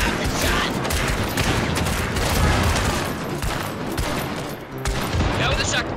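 Dense, loud gunfire in the video game Hunt: Showdown, including a shotgun, with heavy overlapping blasts in rapid succession throughout and voices shouting now and then.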